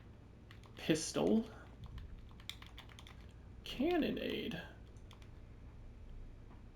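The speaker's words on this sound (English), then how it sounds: "You can't see, but I'm typing." Quick keyboard clicks are typed on a computer during a PlayStation game session, short bursts of keystrokes with someone talking over them in two spots.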